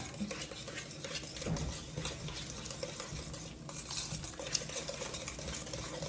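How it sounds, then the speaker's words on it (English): A whisk stirs lasagna sauce in a pot with steady, continuous scraping and swishing and a faint background sizzle, with no voices. "I think I'm going to use my whisk"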